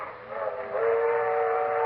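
A train rumbles along in an old-time radio comedy sound effect, its steady rolling noise swelling as a sustained whistle tone comes in and holds for a couple of seconds.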